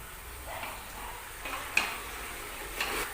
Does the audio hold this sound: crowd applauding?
no